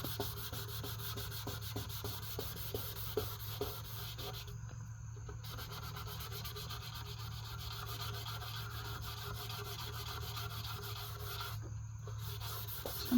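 Wet 400 grit sandpaper rubbing back and forth on an oxidized car headlight, a soft, steady rasping scrub close to the mic with two short pauses.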